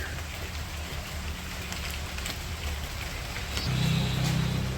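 Steady rain falls with a continuous close hiss of drops striking surfaces, and a low engine-like hum swells in near the end.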